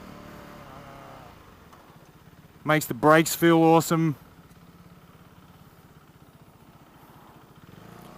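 A KTM Duke 390 motorcycle engine drones at a steady low level while riding, with someone talking briefly over the running engine.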